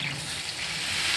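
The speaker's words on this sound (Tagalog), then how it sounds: "And water." Water poured into a cooking pot of pork patatim with bay leaf, a close, steady, continuous gush of liquid with no talking.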